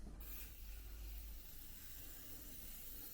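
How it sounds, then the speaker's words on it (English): A short, steady hiss of aerosol cleaner sprayed onto a stainless steel HKS exhaust from a Nissan 370z, close and continuous for about three seconds with no talking. "give it a shake and spray it down"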